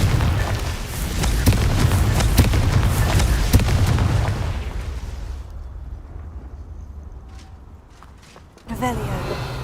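Spell explosion from the Confringo fire charm in Hogwarts Legacy, a heavy booming blast with dense low rumble that fades over several seconds, then a fresh burst near the end, with game sounds around it.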